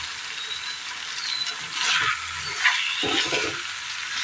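Soya chunks being stirred into a tomato mixture in a hot pan for a Kerala dish, giving a steady broadband sizzle with a few scraping strokes of the spoon, close and moderately loud, with no voices.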